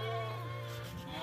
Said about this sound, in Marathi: मेंढ्या शेळ्या